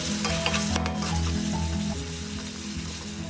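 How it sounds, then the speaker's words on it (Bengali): Whisked yogurt being stirred into frying spices in a pan for Bengali doi katla fish curry, a steady sizzle with scraping spoon strokes across the pan, close and continuous, no talking. "ভালো করে দইটাকে মিশিয়ে নিচ্ছি।"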